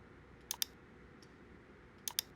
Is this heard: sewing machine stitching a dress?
no